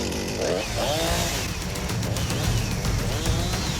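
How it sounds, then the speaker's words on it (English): A chainsaw roars steadily up close, its loud engine whine rising and falling as it bites through soft fruit, with no talking. "Tackling fruit with a sword is one thing, but with a chainsaw, it's something else."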